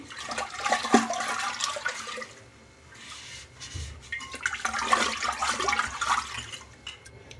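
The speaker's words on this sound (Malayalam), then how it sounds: "ഒന്ന് കൈ കൊണ്ട് സ്ക്രബ്ബർ വെച്ചിട്ട് ഞാൻ നല്ല പോലെ ഒന്ന് കഴുകിയെടുക്കണേ" Water splashes and sloshes against a ceramic jar, with uneven bursts of rinsing and scrubbing rising and falling close by and no talk.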